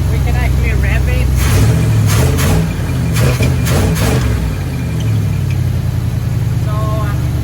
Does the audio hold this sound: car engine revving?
yes